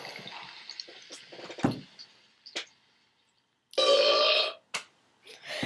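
Cartoonish burp effects from a phone app, several short bursts in a row, one long loud belch near the end among quieter gulps and splashy liquid noises, no talking.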